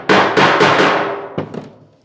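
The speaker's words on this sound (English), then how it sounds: "I'm just going to take and bump it just a little bit from the underside with a small face hammer" A small face hammer taps the underside of warped, welded car body metal on a 1940 Ford-inspired build: about five sharp, ringing metallic strikes in quick succession, loud and close, fading out after the last two lighter taps.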